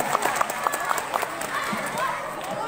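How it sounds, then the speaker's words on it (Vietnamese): An audience at a school quiz contest on preventing smoking, alcohol and drug use gives a big round of applause, a dense wash of clapping with some sharper claps and crowd noise, fairly close. "Các bạn ở dưới chúng ta hãy dành một tràng pháo tay thật lớn để cổ vũ cho các em."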